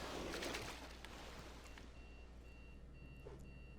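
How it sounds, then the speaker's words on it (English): Several electronic alarms beep faintly in the background of a quiet room, thin repeating tones recurring in an uneven pattern over a low steady hum. "Man, I got a ton of alarms going off."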